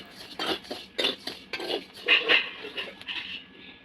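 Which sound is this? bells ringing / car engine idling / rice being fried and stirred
rice being fried and stirred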